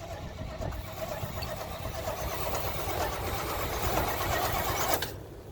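A 1974 Chevrolet C10 pickup engine cranks over steadily on the starter for about five seconds, a continuous loud churning whir that cuts off abruptly near the end.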